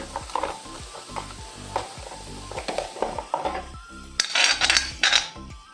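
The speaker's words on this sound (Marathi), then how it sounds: "कढईत तेल तापवलं आहे एक मोठा चमचा जिरं घालणार आहे जिरं फुलत आहे" Cumin seeds sizzle in hot oil in a kadhai, a close crackling fry punctuated by repeated metal spoon knocks and scrapes, rising into louder hissing bursts toward the end.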